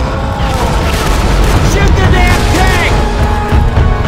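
A Molotov cocktail bursts in a zombie shooter amid constant loud game noise: booming blasts, gunfire and dense mechanical clatter, with voices talking over the chaos.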